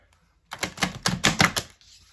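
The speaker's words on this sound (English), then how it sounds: "it's getting hard to shuffle because I've got so many cards here" A thick deck of tarot cards is riffled and shuffled up close, giving a rapid run of crisp flicking snaps that lasts just over a second.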